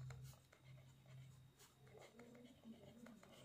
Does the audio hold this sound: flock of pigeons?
no